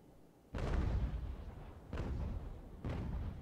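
A starboard broadside of sailing-warship cannons in Ultimate Admiral: Age of Sail booms out in three heavy, rumbling blasts spaced about a second apart, each with a long, rolling tail.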